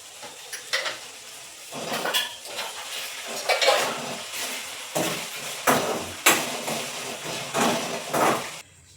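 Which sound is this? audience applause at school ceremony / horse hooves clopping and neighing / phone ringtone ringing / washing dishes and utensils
washing dishes and utensils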